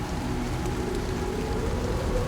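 Steady rain falls on surfaces, an even, close, continuous patter with scattered drops and no voices.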